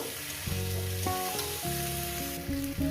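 Sajne (drumstick) flowers with a little cumin powder sizzle steadily in a pan over medium gas, a soft continuous hiss under background music.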